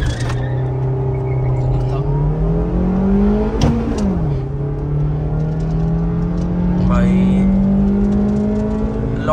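Two fourth-generation Honda City sedans launch in a drag race, their engines revving up in rising, droning tones with a quick shift partway through before pulling steadily on.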